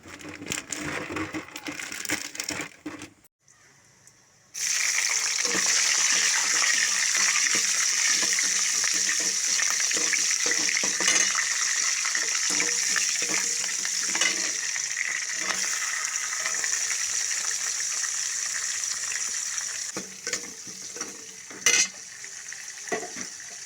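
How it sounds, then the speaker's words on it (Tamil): Whole spices, green chillies and onions frying in oil in a pan for a home-style chicken gravy, a loud steady sizzle with scraping stir strokes that runs nearly throughout after a brief quiet start. "எண்ணெய் ஊற்றி பட்டை வகை கல்பாசு இதெல்லாம் போட்டு பச்சை மிளகா வெங்காயம் இதெல்லாம் போட்டு நல்லா வதக்கி விட்டுக்கலாம்"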